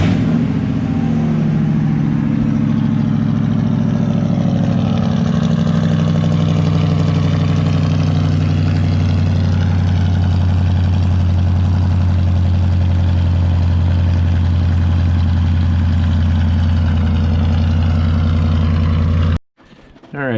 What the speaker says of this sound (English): Give you guys a little bit of a cold start here.